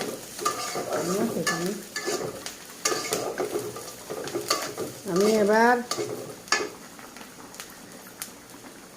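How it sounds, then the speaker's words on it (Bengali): Fried green chillies and onion crackle in oil with frequent stirring clacks and scrapes of a utensil on the pan, while a voice speaks briefly partway through. "ঝাল পেঁয়াজ ভাজা হয়ে গেছে"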